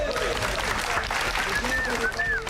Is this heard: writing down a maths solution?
no